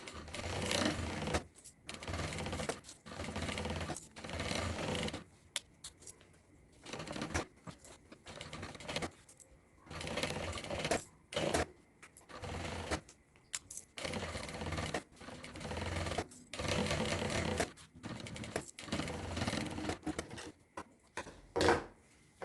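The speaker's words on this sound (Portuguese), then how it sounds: "Vou costurar pelo lado direito por causa das curvas que eu preciso fazer" A sewing machine stitches a zippered notebook cover in bursts of fast mechanical whirring, stopping and starting many times with brief pauses between runs, close and fairly loud.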